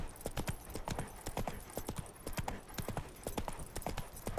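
Roach, Geralt's horse in The Witcher 3, galloping with a quick, steady clip-clop of hooves, close and loud, with no talk over it.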